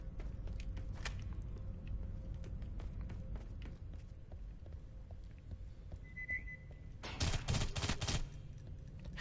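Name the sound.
gunfire in video game Aliens: Colonial Marines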